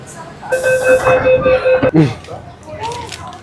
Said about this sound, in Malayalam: നമ്മുടെ മെട്രോ വന്നു.